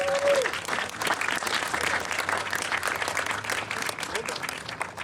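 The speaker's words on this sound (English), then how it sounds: "I'd like to ask all of you to please give a round of applause to our Chief" A crowd at a San Francisco rally against ICE targeting downtown workers applauds steadily, dense clapping holding at a fairly loud level throughout with a brief voice at the start.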